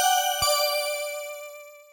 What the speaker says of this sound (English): We'll go to the preset organ, dusty organ, which sounds like this.